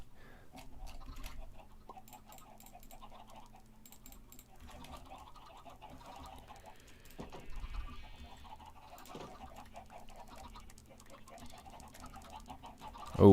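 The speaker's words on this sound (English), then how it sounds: "You have more parrots. How many birds do you have now?" Several pet parrots squawk and chirp indoors in repeated short bursts at moderate level, with a louder outburst near the end, over a steady low background hum.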